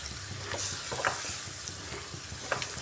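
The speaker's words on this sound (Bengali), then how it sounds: "এবার একটু কষিয়ে নিয়ে জল দিয়ে দেব" Cucumber sautéed with salt in a pan sizzles steadily, with a few sharp scrapes of stirring, close and alone with no voices.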